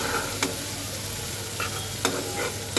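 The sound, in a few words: stir-frying spice paste for chital fish curry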